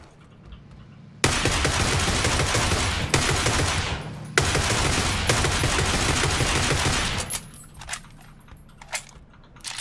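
Long full-auto bursts from a Groza rifle in PUBG, loud and close: a sustained rattle, a brief break, then another long burst, ending in scattered clicks and rattles of weapon handling.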